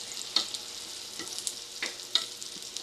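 Green beans (sitaw) for adobo fry in a pan with a constant hiss and scattered sharp pops of splattering oil, close and steady, with no talk.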